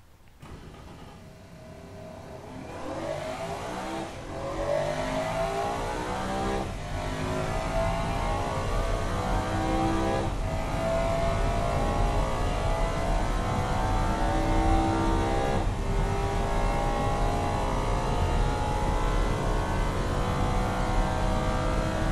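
A 2000 ESE Tsunami sports car engine in a racing game accelerates hard down a long straight, a loud, steady rising roar with rapid upshifts every few seconds and no talking.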